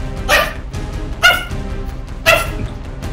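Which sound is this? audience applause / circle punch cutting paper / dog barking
dog barking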